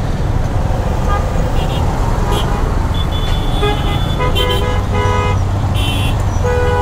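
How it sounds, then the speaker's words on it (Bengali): Car horns honk repeatedly in heavy Dhaka city traffic, several short toots layered over a dense, loud roar of engines and road noise. "এইসব জায়গায় মানুষ হর্ন দিবে না তো কি করবে?"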